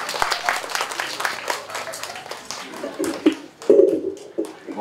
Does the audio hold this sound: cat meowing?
no